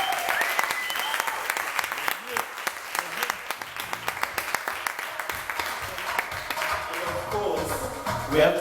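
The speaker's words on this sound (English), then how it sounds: "Ladies and gents, a big round of applause for the man himself" Audience applause at a youth business symposium, a busy wash of clapping with sharp individual claps standing out, with murmured voices and cheering rising beneath it toward the end.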